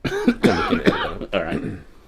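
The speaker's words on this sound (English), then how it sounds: "I was about to cough. Sorry." A person coughs a few times in quick bursts, close and fairly loud, in a bar-themed podcast setting, with throat-clearing sounds mixed in.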